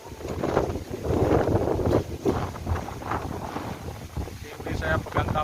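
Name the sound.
strong wind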